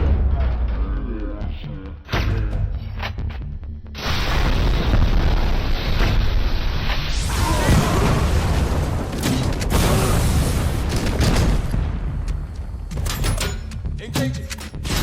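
A launcher weapon fires in the RoboCop Rogue City video game, followed by heavy booming explosions and a long roar of blasts and debris. The sound is loud and dense and comes in several bursts with short pauses between them.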